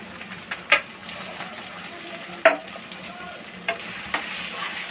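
Green chilies, cashews, carrot and meal maker fry in a pan for egg biryani, a continuous close sizzle broken by a few sharp scrapes of stirring.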